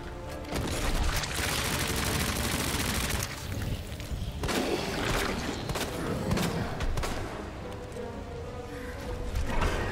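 Rapid bursts of gunfire in Resident Evil 2 Remake during the Birkin boss fight, loud and dense, with booming impacts and scattered single shots continuing throughout.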